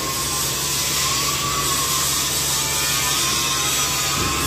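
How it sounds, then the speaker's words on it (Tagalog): Boom crane extending its boom during an inspection, a steady loud mechanical whine and hydraulic drone holding constant throughout, with the low hum cutting off near the end. "Hinahabaan ko yung boom."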